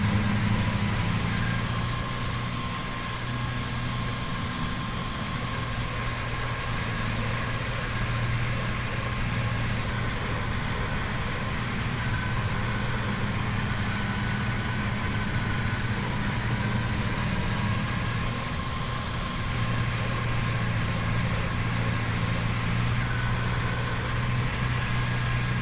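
A truck engine labours at a steady crawl of about 8 km/h, giving a continuous low, heavy drone with a constant vibrating hum that holds unchanged for the whole stretch, close and fairly loud, with no talk.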